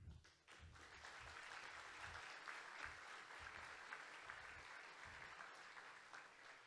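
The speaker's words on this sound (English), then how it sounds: "feel free to applaud each and every graduate" Graduates at a graduation ceremony draw a sustained wash of applause, a crowd clapping steadily at moderate distance with no talk over it.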